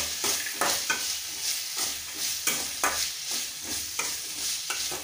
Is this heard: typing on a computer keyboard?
no